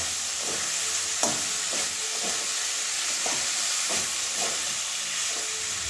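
Duck egg curry fries in a pan with a steady sizzling hiss, while a spatula scrapes and stirs in repeated rhythmic strokes about every half second, close and clear.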